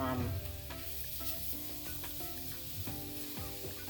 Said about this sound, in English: the olive oil heating